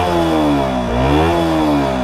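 A KTM RC 125 motorcycle with its original exhaust revs close by, a loud buzzing single-cylinder tone that dips and climbs twice in quick throttle blips over about two seconds.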